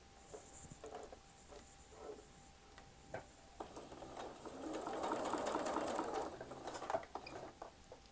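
A sewing machine stitches a quilt seam using a 1/4 inch presser foot, its steady mechanical whir building and running continuously for a couple of seconds mid-clip among lighter ticks and handling sounds, close and fairly quiet.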